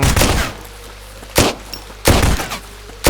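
Gunfire in the survival shooter game ZERO Sievert comes as sharp, loud shots in separate bursts about a second apart, over a low background hum.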